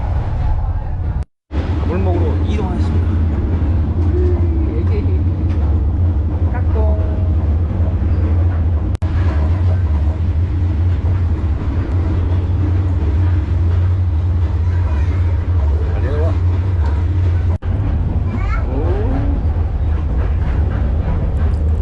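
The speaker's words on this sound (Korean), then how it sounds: "기차가 너무 흔들립니다." Steady low rumble of a train on a long Vietnamese rail journey, the carriage rattling and shaking continuously throughout, with faint voices and movement inside the car.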